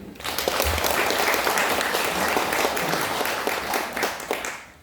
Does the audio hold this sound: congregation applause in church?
yes